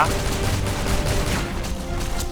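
Explosions and rapid gunfire from the online shooter game Avatar Star, a dense, continuous barrage of loud crackling shots and booms filling the whole stretch without a break.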